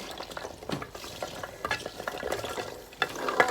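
Bamboo shoots go into a pot to boil, with clattering stirs and scrapes over a soft bubbling hiss, heard close and alone without speech.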